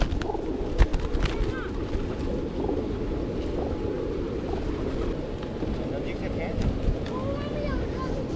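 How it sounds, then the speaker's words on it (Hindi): Pigeons gathered at Kota Barrage landing on an outstretched hand for grain, soft cooing and wing flutters over a constant outdoor rumble of wind and water, with people talking nearby. "जैसे ही मैं अपना हाथ आगे बढ़ाता हूँ तो ये कबूतर यहाँ पे आके इस तरीके से बैठ जाते हैं"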